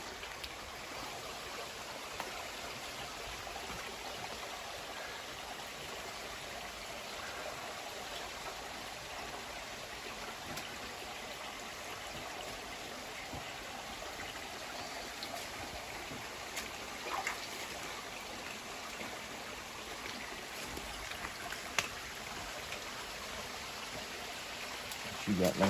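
An underground waterfall and stream inside a cave make a steady, broad rushing wash of water that carries on evenly throughout, with a few faint knocks near the end.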